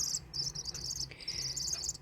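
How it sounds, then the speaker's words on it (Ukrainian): Crickets, thawing out as food for a rescued swift, chirp in a steady high-pitched trill that runs continuously and close by, with brief dips and no talking. "Ти сам як цвіркун. Цвірчиш і цвірчиш."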